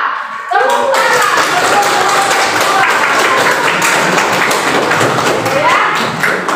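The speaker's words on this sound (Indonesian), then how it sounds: "Tepuk tangan." Students in a classroom clap their hands for a group's good work, a loud burst of scattered, slightly uneven claps with thumps and taps that starts abruptly and keeps going, with some voices mixed in.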